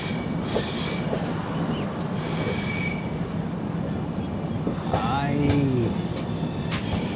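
The 12284 Duronto Express pulls out of Shoranur Junction with a steady rolling rumble, sharp wheel squeals and short rhythmic clicks over the rail joints. A voice talks faintly in the background.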